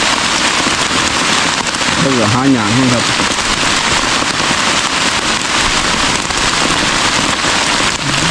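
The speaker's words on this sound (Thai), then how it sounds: "หาเห็ดแป๊บเดียวฝนตกอีกแล้ว" Rain falls steadily in a forest while someone is out gathering mushrooms, a loud, dense patter on leaves and surfaces throughout, with a person briefly talking under it.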